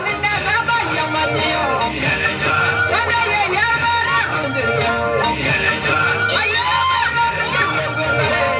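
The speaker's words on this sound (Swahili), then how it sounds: "Wapi makofi kwa mheshimiwa mbunge wilaya Monduli" A crowd cheers and shouts for the Monduli district MP at a Makuyuni gathering, a steady wall of whoops and children's voices with rising excited calls.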